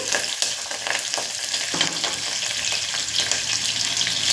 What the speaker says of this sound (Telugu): మొదటగా నేను పచ్చిమిరపకాయలు వేస్తున్నాను కుక్కర్ బాగా హీట్ ఎక్కింది కదా అందుకే తుల్లుతుంది